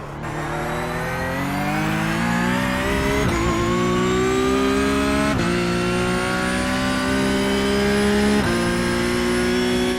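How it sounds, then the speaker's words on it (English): A Porsche Cup race car in iRacing at Suzuka runs onto the AstroTurf at Degner 1 with its engine howling loud and close. The revs climb, then drop abruptly several times as the transmission wobbles, with no talking. "You can hear the revs drop and the transmission start wobbling all over the place."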